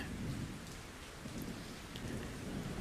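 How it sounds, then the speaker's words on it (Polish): A thunderstorm from a film plays as a dense, even rush of heavy rain with low rumbling thunder underneath, soft and distant-sounding and continuing throughout. "Piorun uderzył w ziemię dokładnie przed tobą, panie."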